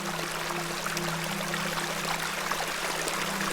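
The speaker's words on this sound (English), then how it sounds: "This is a lovely little beck." A small beck in The Excavation of Hob's Barrow flows steadily with a soft, even rush of water, a constant trickling wash under a faint low hum, with no voices.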